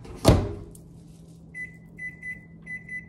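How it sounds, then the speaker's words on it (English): A broken microwave oven, set manually, with a sharp thump of the door or a button, then a low hum under a series of short high beeps. "Y'all hear my microwave?"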